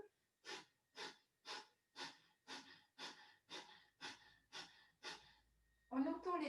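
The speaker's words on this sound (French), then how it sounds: "Voilà, donc respiration du feu." Rapid breath-of-fire yoga breathing, about ten sharp, evenly spaced forceful exhalations through the nose, close and loud, followed by a longer noisy breath at the end.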